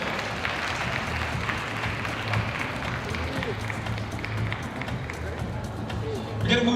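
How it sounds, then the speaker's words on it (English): An audience at the Singapore National Coffee Championship finals breaks into steady applause that lasts throughout, mixed with crowd murmur and a voice. "Round of applause for Ivan."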